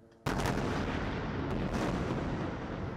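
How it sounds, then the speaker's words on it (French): Night airstrikes in the Gaza Strip: a heavy, sustained rumbling roar of blasts begins abruptly and rolls on continuously, loud and dense, with no voices. "Le bruit des frappes aériennes résonne inlassablement dans l'enclave palestinienne."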